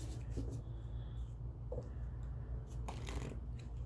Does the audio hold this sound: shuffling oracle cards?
yes